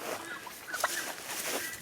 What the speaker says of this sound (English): I really do think these chickens are enjoying being in the garden